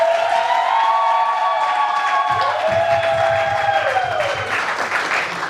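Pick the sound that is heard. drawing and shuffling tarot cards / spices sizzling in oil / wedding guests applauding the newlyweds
wedding guests applauding the newlyweds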